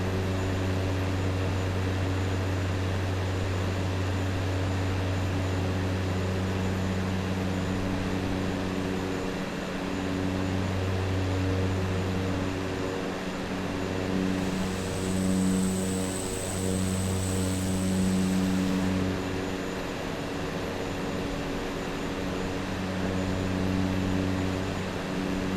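In Microsoft Flight Simulator 2024, a propeller aircraft engine in flight gives a loud, continuous droning hum with steady tonal layers that barely change for the whole stretch, with no voices.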